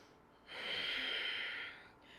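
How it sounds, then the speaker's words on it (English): A single deep breath drawn through the nose during a yoga flow, a soft, airy rush lasting about a second and a half, close and quiet. "3 big breaths"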